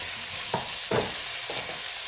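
Potatoes fry in a pan under a steady hiss, with a few short scraping stirs close by.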